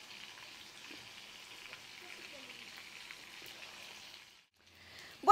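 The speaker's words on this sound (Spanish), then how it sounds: "estamos terminando de freír los camarones" Breaded shrimp fry in oil, a soft, steady crackling sizzle at low volume for about four seconds, then a short pause and a brief louder clatter at the end.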